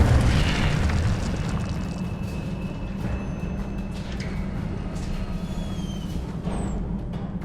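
A fire spell cast in Hogwarts Legacy gives a sustained, roaring burst of flame with a deep rumble that fades gradually over several seconds. No one speaks.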